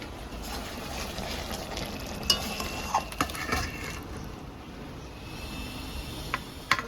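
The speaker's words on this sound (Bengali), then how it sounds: "এবার এর উপর দিয়ে একটু বেরেস্তাটা দিয়ে দেবো এবার একটু নাড়াচাড়া দিয়ে" A stingray fish curry topped with fried onions is stirred in a pan, producing a continuous moderate sizzle with scattered scraping and clinking sounds close by.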